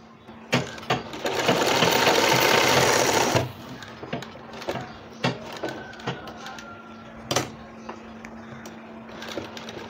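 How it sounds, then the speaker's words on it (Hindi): Sewing machine stitching a cloth langot diaper for a newborn, one brisk burst of fast whirring lasting about three seconds, followed by scattered clicks and handling taps of the fabric. "हमारी दाब सिलाई लगाने की वजह से ये हमारा जो खुला हुआ हिस्सा है ये भी सिलाई में कंप्लीट हो जाएगा।"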